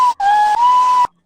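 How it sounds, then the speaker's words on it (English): A single pitch-corrected whistle tone, edited in Nuendo 12, holds steady and loud, with two brief dropouts that split it into three segments before it cuts off cleanly. "This whistle is now basically in tune with the music."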